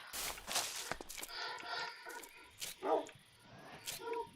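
A Minecraft dog barks and yips several times in short bursts, mixed with shuffling footsteps and game background noise, fairly close and uneven in rhythm.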